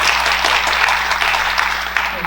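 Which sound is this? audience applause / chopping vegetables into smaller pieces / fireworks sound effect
audience applause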